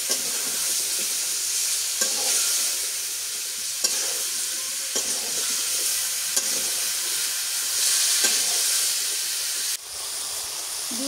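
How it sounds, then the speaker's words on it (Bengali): Vegetables frying dry in a pan with broiler chicken curry, a steady loud sizzle and hiss with periodic stirring scrapes throughout. "তরকারিগুলো এখন দিয়ে দিই শুকনো কষান করে নিলাম"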